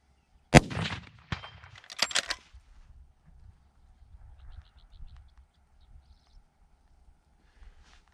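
A Bergara B-14 HMR rifle in 300 PRC fires once outdoors at a range, one sharp, loud crack followed by a rolling echo, then bolt-cycling clicks and faint bird calls in the quiet.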